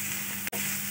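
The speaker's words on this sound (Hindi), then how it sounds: "अब हम अपने मशरूम भी इसी में ऐड करेंगे और उन्हें भी थोड़ा सा स्टर करते हुए पका लेंगे।" Mushrooms sizzle and fry in a pan while being stirred, a steady close hiss with a brief scrape of the spoon near the end and no voices.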